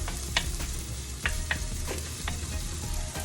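Finely chopped garlic sizzles steadily in a hot pan, a dense continuous frying hiss with a few sharp crackles and light stirring clicks, fairly close, with no talk over it.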